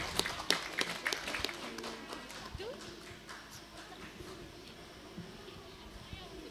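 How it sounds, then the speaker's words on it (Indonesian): Applause for a quiz team at a school quiz competition, a burst of scattered clapping that settles into a softer, steady patter, with voices talking over it. "Tepuk tangan untuk grup B dulu,"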